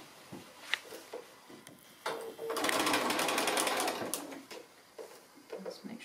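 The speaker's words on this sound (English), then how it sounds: "we just need to stitch across here with a regular 1/4 inch seam allowance" A sewing machine stitches a quarter-inch fabric seam in a quilting project, a brief close run of rapid mechanical whirring between quieter handling taps and rustles.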